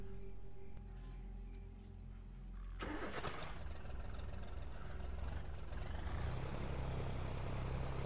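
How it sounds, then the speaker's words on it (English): A truck engine in Metal Gear Solid V rumbles in after a sudden onset, a steady low drone that grows louder and nearer over several seconds against a quiet background with no talk. "The truck approaches"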